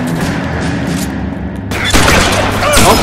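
Gunfire in the video game LA Noire, loud booming shots and a burst of rapid fire over dense battle ambience, close and continuous.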